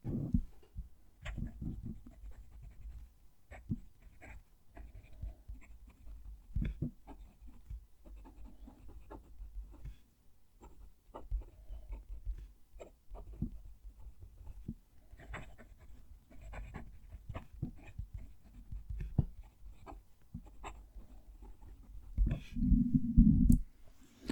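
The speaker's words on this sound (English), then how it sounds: "Going to move the mic down to the page so you can hear the pen write a sentence." A Jinhao 95 fountain pen scratches across paper with the microphone held close, faint irregular scraping strokes and small taps that continue steadily for the whole stretch, with some louder rustles at the end.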